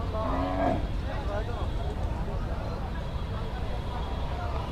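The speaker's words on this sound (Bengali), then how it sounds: "বড় বড় গরু আসতেছে দেখতেছেন" Cattle lowing at a crowded Faridpur cattle market ahead of the Eid al-Adha sacrifice, with large red-coated bulls arriving; a prominent moo rises early over a steady wash of crowd noise and distant chatter.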